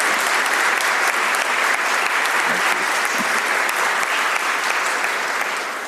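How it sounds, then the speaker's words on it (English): Audience applause for Senator Blunt at a conference at the historic Kennedy venue, a dense, steady wash of many hands clapping at full volume throughout, with no voices standing out. "I think those applause were actually for you, Senator Blunt"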